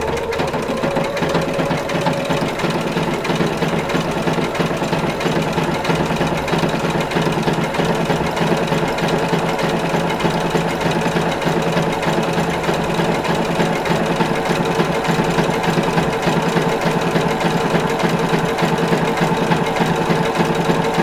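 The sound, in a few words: sewing machine zigzag overcast stitching a raw fabric edge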